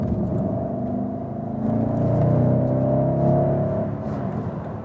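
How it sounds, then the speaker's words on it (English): BMW M550i with a V8 petrol engine pulling hard on a motorway in normal mode, a smooth, steady low rumble and rising engine hum that swells midway and holds, heard from inside the cabin with no talk. "Now you heard the 8-cylinder for the very first time"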